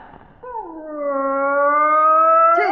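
A voice imitates a dog howling, one long, loud, steady howl held close for over two seconds, ending with a short break.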